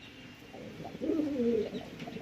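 Lambari breed pigeons coo close by in a soft, rolling burble that swells to a louder, throaty call midway and then eases off against faint background hiss.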